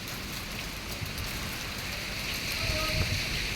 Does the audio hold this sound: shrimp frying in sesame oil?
no